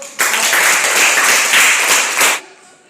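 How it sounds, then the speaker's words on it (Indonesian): Classroom of students clapping together in a short, dense burst of applause that stops abruptly, leaving a quiet room tone. "Tepuk tangan untuk"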